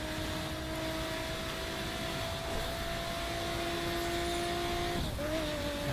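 Lotus Exige sports car in The Crew racing game, its engine droning steadily and loudly as it accelerates, with a rising tone that dips briefly near the end, like a gear change.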